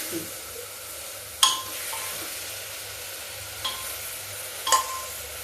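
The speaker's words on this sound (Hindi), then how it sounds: "और सब कुछ मिलके भून रहा। बैंगन मेरे नरम हो रहे हैं।" White eggplant and spices fry softly in a pan, giving a low steady sizzle with a few sharp clinks and scrapes of a spoon stirring. No talk is heard.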